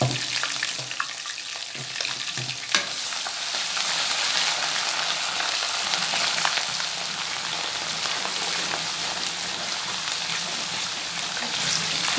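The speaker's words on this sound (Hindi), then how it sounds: "अब हम सबसे पहले इसमें अपना लहसुन अदरक का पेस्ट फ्राई करते हैं।" Garlic-ginger paste fries in hot ghee with a dense, steady, loud sizzle that crackles continuously up close for the whole stretch, with a brief stir near the start.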